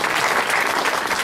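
Audience at a NYCOSH dinner applauding, a brief, dense burst of clapping from many hands filling the room.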